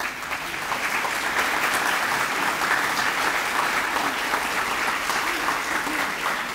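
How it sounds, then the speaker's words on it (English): A large audience gives a sustained round of applause for community leaders standing at a college Hall of Fame ceremony, with steady, dense clapping filling the hall throughout. "I'd just like for all of you to stand so that we can give you a round of applause."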